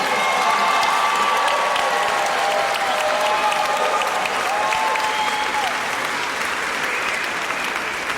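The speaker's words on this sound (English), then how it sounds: "Give them a round of applause" At a kindergarten promotion ceremony, an audience claps loudly and continuously in a full, sustained round of applause, with faint cheering and high whistle-like tones running through it.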